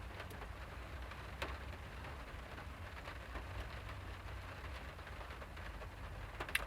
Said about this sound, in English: By the way, it's raining.